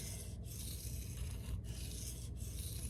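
A knife edge of Elmax steel on an SPK Shark being sharpened, with a steady, close abrasive rasping that runs nearly continuously and breaks off in brief pauses between strokes.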